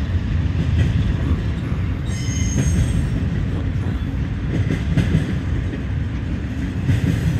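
Southbound Norfolk Southern intermodal freight train passing close by, a loud continuous rumble and rattle of railcars with clicking wheels and a brief faint squeal, no talk.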